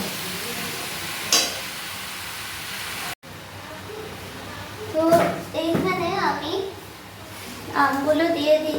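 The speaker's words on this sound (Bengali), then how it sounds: "এইভাবে ভালো করে নেড়ে দেবো আমি মিক্স করে নেব" A spoon scrapes and stirs through thick mango pickle in a pan, with a soft sizzle underneath and a few louder clanks and scraping strokes.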